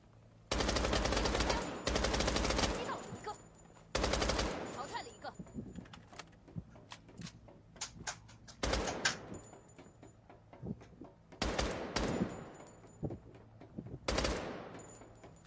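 Bursts of SMG fire in a video game, several rapid loud volleys separated by pauses, with quieter clicks and clatter between them and some talk.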